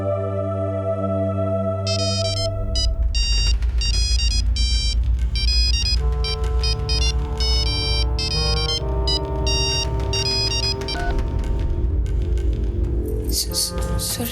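An unanswered phone ringtone plays a steady, repeating electronic melody for the whole stretch, loud and close, with a brighter tone cluster near the end.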